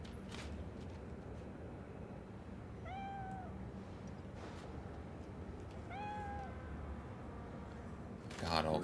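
A cat in the video game Cyberpunk 2077 meows twice, a few seconds apart, over a steady hum of background noise, with a short rustle at the end.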